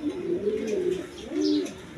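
Pigeons kept for sale coo close by in two soft, throaty rolling calls, one after the other, with no voices.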